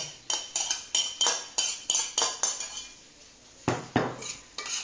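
Black Venere rice being stirred with Mediterranean vegetables in a pan, a run of sharp, evenly spaced clinks and scrapes of a utensil against the metal, a brief lull, then a few more strokes, close and clear with no talking.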